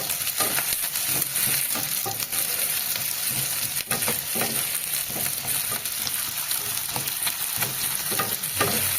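Chopped onions fried and stirred in a pan for chilli paneer, giving a continuous loud sizzle broken by frequent scraping strokes of the spatula, close up with no talking.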